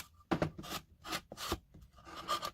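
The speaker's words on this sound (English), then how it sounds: "Then I need to keep on sanding." Short rasping strokes of sandpaper on wood, several separate passes with brief pauses, close and fairly quiet.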